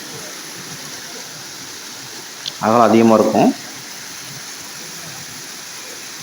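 Water rushes over rocks at a rain-swollen waterfall by a temple at Kannimar Odai, Salem, Tamil Nadu: a steady broadband roar fills the whole clip, with a brief burst of nearby speech in the middle.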